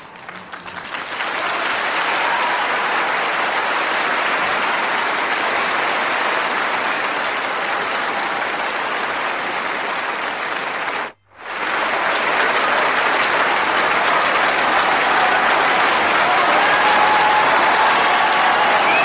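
A concert audience at a show claps loudly and steadily before a song, with dense crowd applause filling the whole stretch apart from one brief dropout.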